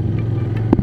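Steady low hum from a Vento Crossover 250 motorcycle engine while riding, heard up close with a brief clatter near the end and no voices.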